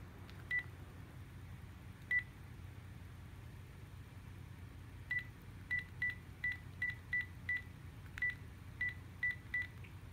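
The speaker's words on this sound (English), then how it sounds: "Now I'm going to go ahead and dial my phone number." A cell phone keypad sends out a string of short dialing tones. One beep comes, then two isolated ones, then a quick run of about ten evenly spaced beeps. The tones are faint and sound muffled over low background rumble, as if the phone is near water.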